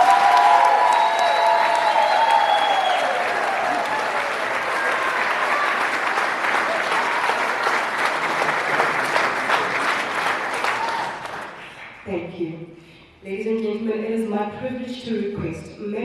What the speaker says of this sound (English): can we give all our graduates a proper round of applause?